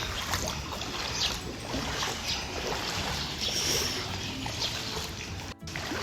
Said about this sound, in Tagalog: Ang grabe ang baha.